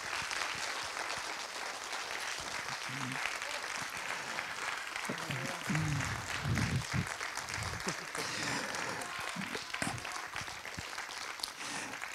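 Steady applause from an audience at a film discussion event fills the room for several seconds, a dense wash of clapping with voices murmuring underneath.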